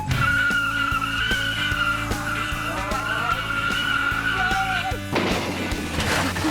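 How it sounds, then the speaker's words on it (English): A car skidding in a staged wreck, with a sustained tire screech over a roaring engine, then a rough clattering crunch near the end, all loud and close. "auto wreck madness"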